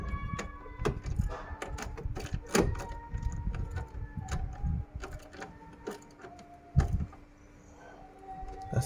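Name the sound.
ratchet wrench with 10mm socket undoing bolts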